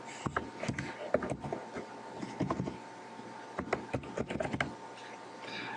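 Keys clatter on a computer keyboard in quick bursts of typing separated by short pauses, close and moderately loud, with a faint steady hum underneath.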